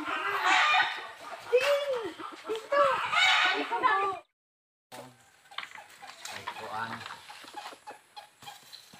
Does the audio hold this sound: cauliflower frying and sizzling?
no